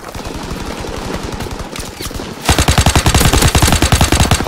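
Rapid automatic gunfire from a World War II era shooter game, Call of Duty WW2, played on Xbox One: sustained loud bursts, first lighter and then a denser, heavier stream of shots with no talking.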